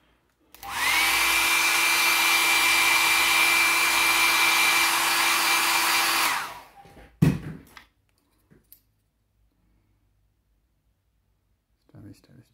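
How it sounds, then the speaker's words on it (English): A hair dryer blows steadily at close range for about six seconds, drying wet paint on a rusty weapon, then cuts off, followed by a few clicks and handling knocks. "Yeah, it's quite wet, I'll just dry that actually."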